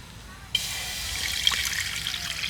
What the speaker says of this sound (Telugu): ఇప్పుడు మనం ఫ్రెష్గా వాటర్ పోసుకుంటున్నాము ఇందులో